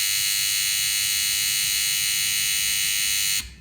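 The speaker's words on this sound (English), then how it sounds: "It's a DC buzzer, only works one way." A small DC electronic buzzer emits a loud, steady, unbroken high-pitched electronic tone, alone for over three seconds before cutting off abruptly.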